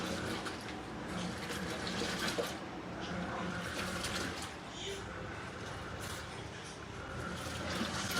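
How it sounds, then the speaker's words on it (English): Cold tap water runs steadily into a Comfee 0.9 cu.ft portable washing machine during a wash, a continuous hiss and gurgle with a person talking over it. "You just leave the faucet on, cold, while it's doing the wash."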